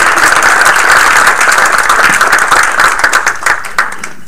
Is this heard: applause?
yes